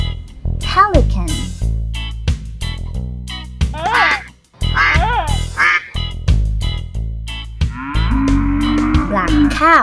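A black cow moos several times in drawn-out calls among other farm animal sounds, including duck-like quacks and a musical backing.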